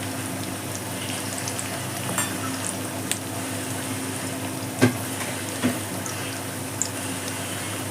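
Tomato dal cooking in a pan, frying steadily with a continuous sizzle and occasional soft stirring scrapes, close and moderately loud, with no voices.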